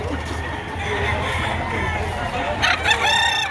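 A rooster crows toward the end over a noisy outdoor crowd murmur at a chicken market in Batangas, with other fowl sounds mixed into the background.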